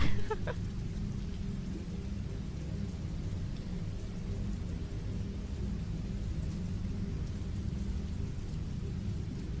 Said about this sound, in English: where I'm at, it has been raining like non-stop.